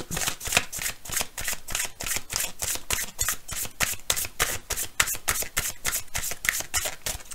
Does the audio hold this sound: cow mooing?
no